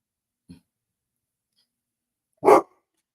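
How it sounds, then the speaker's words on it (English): A dog barks at someone walking by: a single loud, close bark breaks a near-silent stretch, with only a faint soft sound earlier. "he really barking at somebody walking there"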